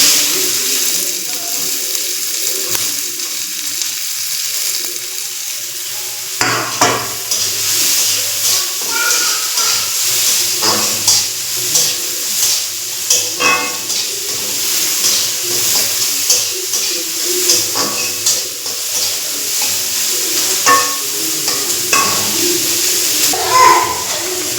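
Green chili and onion dropped into hot oil for a vegetable chop, a quiet hiss that suddenly becomes a loud, steady sizzle and keeps going with small crackling pops.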